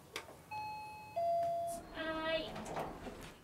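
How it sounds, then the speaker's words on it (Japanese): An apartment doorbell at an old public housing complex chimes clearly in a two-tone ding-dong, fairly close and alone, followed by voices talking as the door is answered. "ピンポンします。"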